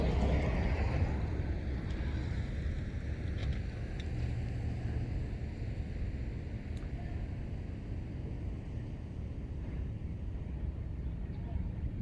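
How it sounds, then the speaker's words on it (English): Cars and a truck pass on a road near a lake, a steady broad rumble of traffic with wind buffeting the microphone throughout. "Let me let this truck go by."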